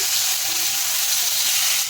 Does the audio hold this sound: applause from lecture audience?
no